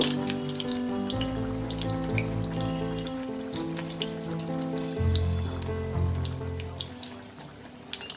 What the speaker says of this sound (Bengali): একদম স্লো টু মিডিয়াম ফ্লেমে আমাকে এই ব্রেডটাকে ভেজে নিতে হবে